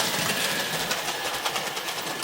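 An OO gauge Hornby Dublo 3-rail Royal Scot model train runs along the track with a soft, rapid rattle and whirring motor hum, close and fairly quiet, with faint rhythmic clicks.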